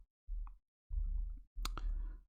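Keys pressed on a computer keyboard while writing Excel VBA code: three short, close bursts of soft clicking separated by brief silences, with no talking.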